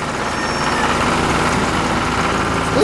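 A red tractor engine in a farm cartoon runs loudly and continuously, a steady heavy rumbling drone close by with no speech.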